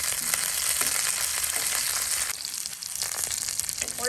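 Green chilies and cumin seeds fry in oil on a tawa, a loud continuous sizzle with occasional spatter crackles and a brief dip in intensity partway through.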